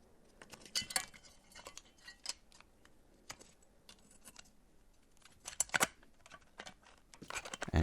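Clicks, taps and clacks from the case of a Chilkey ND75 mechanical keyboard being fitted and closed after a two-layer tape mod. The sharp, irregular plastic sounds are close and come in small clusters, with no voices.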